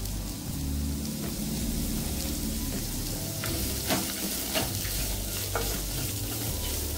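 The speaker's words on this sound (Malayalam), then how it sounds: "ഞാൻ ഇതിലേക്ക് സവാളയും കറിവേപ്പിലയും ഇട്ട് കൊടുക്കാം ഇത് നന്നായിട്ട് വഴന്നു വരണം" Onions and curry leaves stir-fried in a pan for a roasted coconut chutney: a steady, close sizzle runs throughout, with stirring scrapes and soft knocks on top and no talking.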